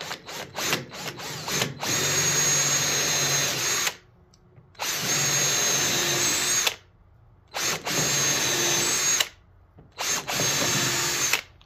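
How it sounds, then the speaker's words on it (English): Power drill with a 1/4 inch bit boring into cedar for a porch swing, in three sustained bursts of a few seconds each separated by short pauses, with brief trigger taps at the start. "I've got my 1/4 inch bit back in the drill."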